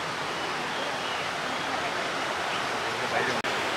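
Steady, rushing flow of a forest stream in the Anamudi Shola forest fills the clip evenly, a broad continuous wash nearby, with a brief dropout near the end.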